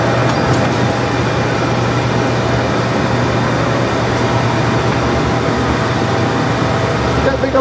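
A 1987 Harrison M500 21-inch by 60-inch gap bed engine lathe running with its big chuck spinning at speed, a loud steady mechanical drone and whir holding constant throughout.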